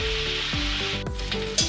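Cauliflower pieces for a curry sizzle loudly in hot oil, a steady close hiss under a few clunks of pan or spoon, with no talking.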